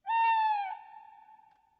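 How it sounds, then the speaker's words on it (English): An owl gives one clear, drawn-out hoot with a strong tonal pitch that holds steady and then trails off slowly, close and alone with no talk. "Now is that an owl?"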